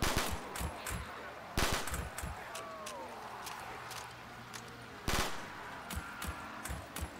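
Gunfire in Black Ops 3 custom zombies: sharp bursts of rapid shots, with loud volleys at the start and around the middle and scattered single cracks between them over faint game background noise.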